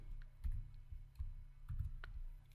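Quiet, irregular clicks of computer keys being typed, a handful of soft taps spread over a couple of seconds with a low background hum.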